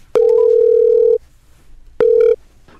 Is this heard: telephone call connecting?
yes